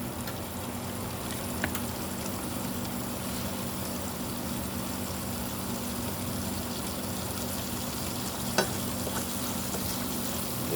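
An egg fries in a pan with a steady, even sizzle that carries on unbroken, broken only by a couple of faint clicks.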